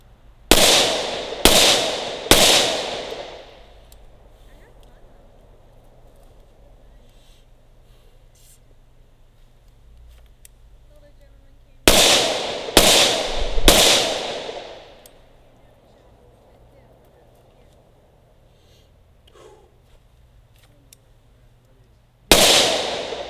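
Ruger SR1911 10mm pistol firing outdoors: two volleys of three sharp, loud shots in quick succession, then a single report near the end, with quiet gaps between.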